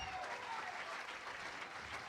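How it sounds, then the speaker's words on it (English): Brief burst of sustained studio audience clapping for comedian Pat Paulsen on a 1985 comedy TV special, fairly faint and even from start to finish. "Big round of applause, Pat Paulsen for"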